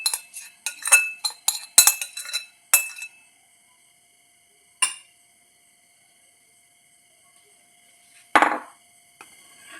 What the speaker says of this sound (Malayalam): ഇത് നമുക്ക് ഒരു ബൗളിലേക്ക് മാറ്റിയെടുക്കാം.